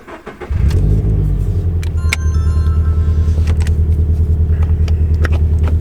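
A car's new GReddy EVOlution GT exhaust rumbles low and steady as the engine runs while driving, a deep, continuous drone with faint clicks and rattles on top.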